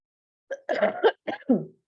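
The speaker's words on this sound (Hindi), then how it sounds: "थोड़ा-सा मुझे खाँसी भी लगी हुई है" A woman coughs several times in a short burst, close and fairly loud, with brief pauses between the coughs.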